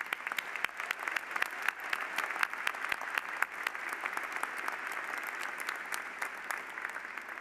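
Audience at a university commencement ceremony applauds a musical group: a dense, steady wash of many hands clapping at once, moderately distant and even in level throughout, with no voices standing out.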